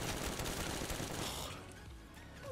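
HMR gunfire in the Minecraft Zombies game, a dense, fast burst of shots for about a second and a half that then cuts off into quieter background noise.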